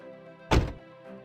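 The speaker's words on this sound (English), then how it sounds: "You may open and close the door and hear the sound of sturdy quality." The door of an MG Hector car shuts with one solid, deep thump, near and loud, over a quiet background.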